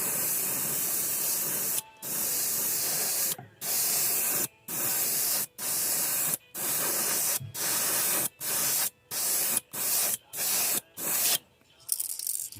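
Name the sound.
airbrush spraying thin sepia Candy2o paint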